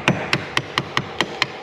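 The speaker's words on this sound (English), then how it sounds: "It makes it a little bit easier here, having a hammer." A hammer strikes seven times at a steady, even rhythm, sharp close metallic knocks used to crack the top section off a build for a Ford F450.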